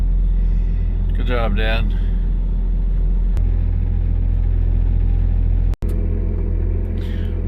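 A log skidder's engine rumbles steadily close by while skidding logs among cedar, a loud low drone throughout with a brief break near the end, and a voice speaks briefly over it.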